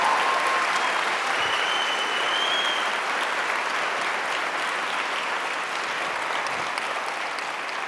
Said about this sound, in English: Round of applause, please, for Ziwe before your questions.